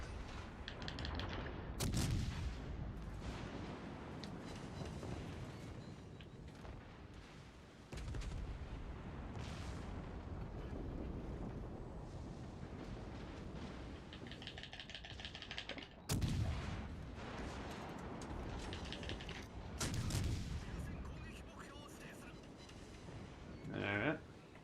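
Naval guns from warships fire in World of Warships Legends on PlayStation, with repeated booming salvos and sharp cracks over constant battle rumble and a player talking throughout.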